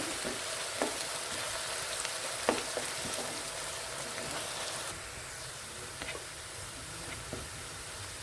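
Chopped onions fry in hot oil for an egg curry, a soft continuous sizzle with occasional louder crackles and stirring knocks, close and steady with no talking.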